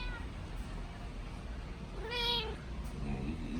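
A pet cat gives a single clear meow, fairly close, over a quiet room with a low background hum, followed by a softer trailing vocal sound.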